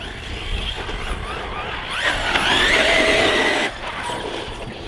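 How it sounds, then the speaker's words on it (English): A Team Corally Muraco RC truggy on Badlands tyres, running 6S power, whines and skids across the ground, its high motor pitch rising and sweeping as it accelerates, loud and close with no talking. "I really like this truggy. And with these tyres now, just lethal machine."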